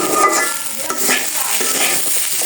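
Rice and vegetables being stirred as they fry, a loud, continuous close-up sizzle with scraping and occasional light clinks of the spoon against the pan.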